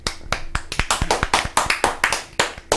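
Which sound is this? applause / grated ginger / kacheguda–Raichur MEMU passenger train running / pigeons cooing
applause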